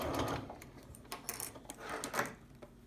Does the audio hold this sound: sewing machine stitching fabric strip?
yes